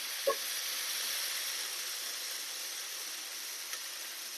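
Chopped vegetables sauté in a pan for broccoli corn soup, giving a steady, soft sizzling hiss throughout with a faint clink near the start.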